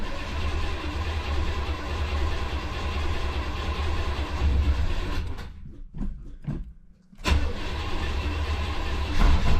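A 1983 Pontiac Parisienne engine runs just after its first start, a steady loud rumble that surges under throttle, dips sharply for a few seconds, then picks back up.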